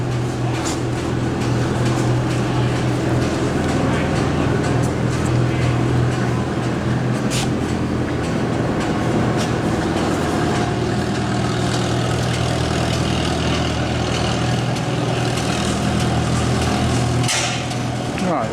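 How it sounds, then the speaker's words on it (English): An International Harvester generator runs steadily with a throbbing, rhythmic engine chug and mechanical knocking, loud and close at an antique machinery show, continuous throughout with faint talk mixed in at points. "International Harvester generator."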